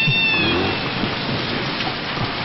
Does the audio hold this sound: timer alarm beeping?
no